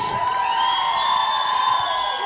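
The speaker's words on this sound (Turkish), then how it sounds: "İki taraf burada alkış" Cheering and whooping at a Turkmen wedding in Istanbul, a loud, sustained crowd noise with drawn-out high-pitched shouts running through it.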